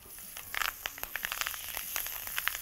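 Thyme and a rosemary sprig crackle and pop in hot butter and oil in a pan, a faint steady sizzle with scattered sharper spits, heard alone without talk.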